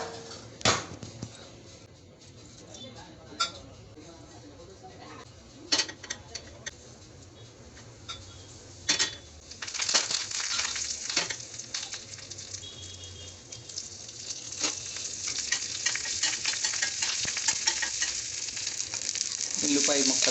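Tempering spices crackle and sizzle in hot oil in a home kitchen pan, a low steady frying hiss punctuated by sharp pops and ticks that grow busier and louder toward the end.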